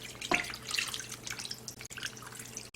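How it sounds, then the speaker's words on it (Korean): Water splashing into a pot of mixed chicken and potatoes for a spicy braise, a close burst of pouring and dripping that trails off into lighter trickles and splashes. "물은 한 700ml 정도 부었어요"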